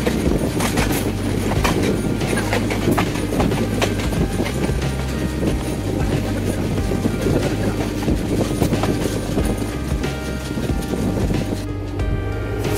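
An intercity express train runs on rails past Tongi Junction station, a loud, steady rumble with rhythmic rattling and clattering of wheels and carriages throughout.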